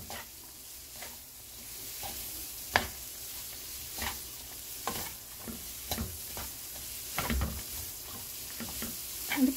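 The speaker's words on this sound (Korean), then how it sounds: "이렇게 볶아 천천히 볶아주시면 돼요" Dried squid strips coated in gochujang are stir-fried slowly over medium heat in a pan, giving a soft, steady sizzle broken by repeated scraping and stirring clicks, close and without speech.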